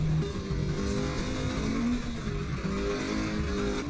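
Drift car engine held at steady high revs, a continuous harmonic drone with a quick clutch kick that barely changes the throttle pitch, heard alone without talk.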